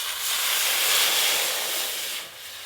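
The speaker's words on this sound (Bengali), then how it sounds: "এবার কড়াইতেও জল দিয়ে দেবো।" Water poured into a hot wok (kadai) over a clay stove throws up a loud, continuous steam hiss that holds steady throughout and eases slightly near the end, with no voices.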